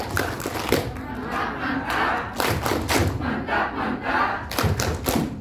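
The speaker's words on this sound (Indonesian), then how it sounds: "Mari kita berikan tepuk tangan, tepuk mantap." Workshop audience in a hall breaks into loud, rhythmic group clapping in unison for the MC, with regular bursts of claps and crowd noise filling the room.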